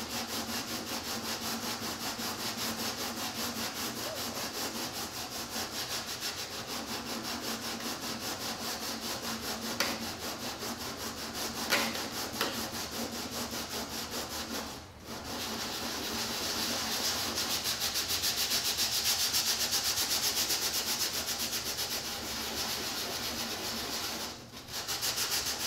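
Sanding across the surface of a plastic scale model of a yellow F-16, applied steadily until the black base layer shows through; a continuous close rasping scrape runs throughout with no talking, easing off briefly twice.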